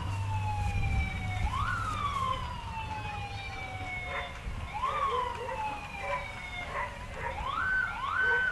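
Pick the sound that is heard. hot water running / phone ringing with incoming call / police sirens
police sirens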